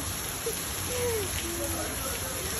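Heavy rain pours down in Honolulu as a steady, even hiss that fills the whole stretch, with a few faint vocal sounds mixed in.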